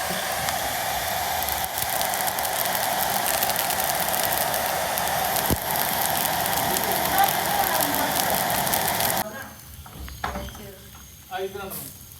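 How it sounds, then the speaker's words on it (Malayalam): Heavy rain pours down with a dense, continuous roar of drops striking surfaces nearby, then thins abruptly near the end as voices talk faintly beneath the remaining patter. "ഇപ്പം മഴ പെയ്തോണ്ടിരിക്കണേ"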